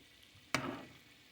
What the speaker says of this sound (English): The spinach in there cooking.